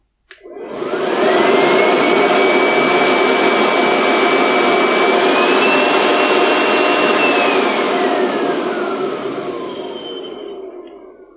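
A Parkside PAUGB A1 cordless blower spins up from silence into a loud, steady whoosh with a high motor whine. The pitch rises slightly partway through, then it winds down and fades near the end.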